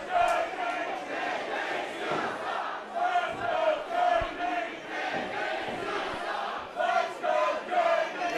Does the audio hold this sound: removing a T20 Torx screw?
no